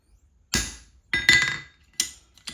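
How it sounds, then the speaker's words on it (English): Hammer striking a center punch set into a lathe part, three sharp metallic taps at uneven spacing with a faint fourth, close and ringing briefly. "I need a hammer."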